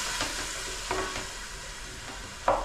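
Tomatoes fry in oil in a steady close sizzle with a few soft stirring scrapes and a sharper clink near the end, no voices.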